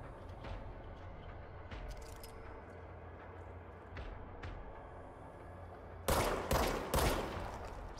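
Gunfire in the video game Control, a few faint distant pops over a low rumbling ambience, then three loud sharp shots close together near the end.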